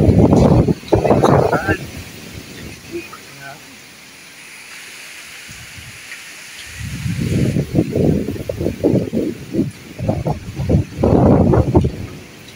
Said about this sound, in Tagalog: Lakas ang hangin kaysa ulan.